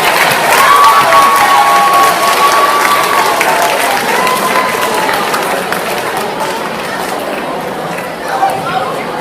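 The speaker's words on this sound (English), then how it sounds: "Give a round of applause." School assembly audience of children applauding and cheering, loud dense clapping with shouts and whistles, fading somewhat toward the end, with voices in the mix.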